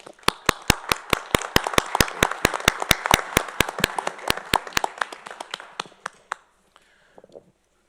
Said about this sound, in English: So I hope you will give your applause to Jim Carter.